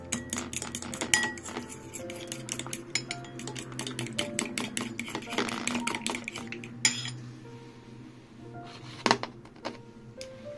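A utensil beats egg yolks for leche flan in a bowl with rapid, rhythmic clinks against the sides, close and crisp, then slows to a few scattered taps.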